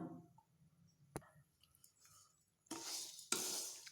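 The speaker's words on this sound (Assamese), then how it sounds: "এয়া এনেদৰে হেতাৰে লৰাই থাকিব লাগিব মুড়ি ফুটালৈকে" A spatula scrapes and stirs puffed rice dry-roasting in a pan, quiet scattered clicks and taps giving way to two loud rustling, scraping bursts near the end.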